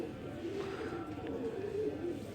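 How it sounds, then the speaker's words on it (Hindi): Long-necked Qasori pigeons cooing softly in a low, continuous murmuring coo, close by but quiet, with faint background noise. "लंबी लंबी गर्दनों के कबूतर हैं"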